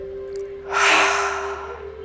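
A single slow breath exhaled out of the mouth during a yoga session for anxiety, a soft airy rush rising and fading over about a second over a steady low hum.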